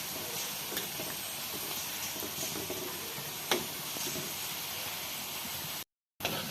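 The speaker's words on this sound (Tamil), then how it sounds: "ஸ்லோ ஃப்ளேமில் வச்சு ஃப்ரை பண்ணி எடுத்துக்கோங்க." Chicken breast frying in a pan over a slow flame gives a steady, close hiss and sizzle with faint ticks and pops throughout, broken by a short silent gap near the end.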